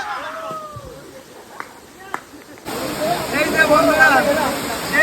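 Khaiyachhara waterfall roaring as a steady broadband rush that swells in after a few seconds of rain-soaked trail sounds, loud and continuous with people talking nearby.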